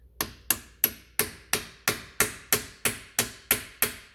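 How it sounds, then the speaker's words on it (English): Eleven sharp metallic taps from a small hammer on the wheel hub of a 2010 Subaru Impreza, evenly spaced about a third of a second apart, close and crisp, each ringing briefly, with no talking. "Let's give it a few love taps. Get your small hammer and just"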